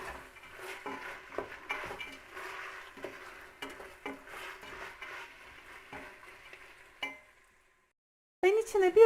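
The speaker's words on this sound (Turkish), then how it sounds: "Tekrar karıştıralım." A spoon stirs a pot of meat and dried bean stew, scraping and clinking against the pot in uneven strokes with a soft sizzle underneath, then a brief pause before a louder burst of clatter.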